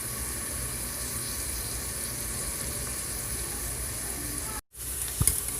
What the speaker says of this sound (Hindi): आधा कप मैंने तेल लिया है और बस इसे प्याज को हम तलने के लिए रखेंगे